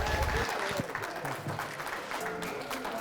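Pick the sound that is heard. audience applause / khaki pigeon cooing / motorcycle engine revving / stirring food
audience applause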